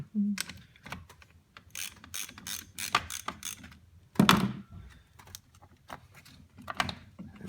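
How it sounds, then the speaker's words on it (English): A ratchet clicks in quick uneven bursts while loosening the positive battery terminal bolt on a 2011–2017 Hyundai Elantra, close and moderately loud, with a heavier metallic clunk partway through. "you want to remove that bolt, or loosen that bolt right here to take off the positive."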